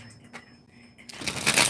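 Tarot cards being shuffled, a short riffling burst near the end after a few soft handling taps, fairly close and moderately loud.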